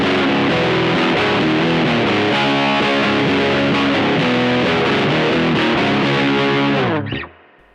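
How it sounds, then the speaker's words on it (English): An electric guitar runs through a Mosky Ultimate Drive distortion pedal with the gain on full, giving a loud, dense, gritty stream of strummed chords that abruptly cuts off and rings out at the end. "you get a really big distortion sound like this."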